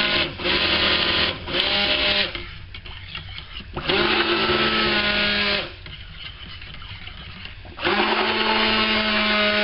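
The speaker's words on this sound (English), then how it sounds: "I hate this stick blender." Stick blender whirring in bursts as it mixes cold or hot process soap batter, loud and close, with short pauses between runs and no talking.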